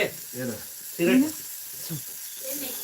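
Fish sizzles in a pan at home with a faint, continuous hiss beneath nearby voices talking over it.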